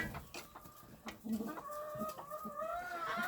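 Chickens and a rooster cluck close by in a poultry yard with ducklings and chicks, short repeated clucks and calls with a brief trilling note.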